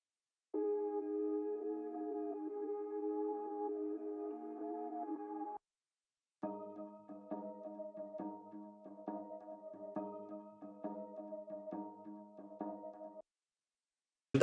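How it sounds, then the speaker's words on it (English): Quiet synthetic drone samples from a song production: one sustained tonal pad holds for about five seconds, then after a short gap a second pulsing drone with a rhythmic flutter runs for several more. "Then there are other effects like some drone samples as well,"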